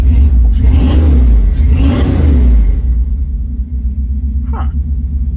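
A Magnum 5.9 V8 swapped into a 1984 Dodge D150 Stepside truck runs close by. A loud, deep rumble swells briefly, then settles into a rough, lumpy idle, with no voices.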